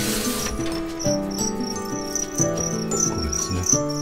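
Two-spotted crickets chirp inside a breeding container, a close, steady run of bright repeated trills layered over one another with no voices.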